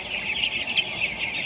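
Thousands of chickens in a closed-house poultry barn fill the air with a dense, continuous mass of high chirping and peeping, steady and close with no pauses.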